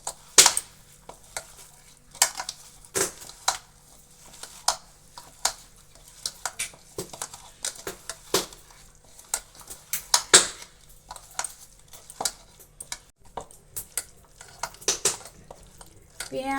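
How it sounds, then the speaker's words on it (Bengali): Onion, green chilli, salt, ginger paste and turmeric are squeezed and mashed together by hand in a bowl for an omelette mix, giving quiet, irregular squelchy taps and clicks with short pauses between them. "নুন, আদা, হলুদ সব একসঙ্গে খুব ভালো করে আমি চটকে নিয়েছি।"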